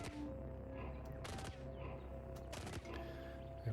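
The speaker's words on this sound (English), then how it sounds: "We've got chain pistol shots going everywhere." Chain pistol fire in the Caves of Qud video game: several sharp bursts of shots crackle at irregular intervals over a steady game background hum, faint overall and without talk.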